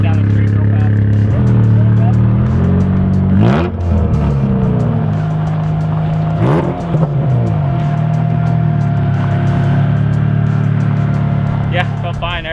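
Acura Integra race car engine driving down a street, revving up and shifting through gears several times with rising and falling pitch, loud and close, with a voice briefly heard under the engine.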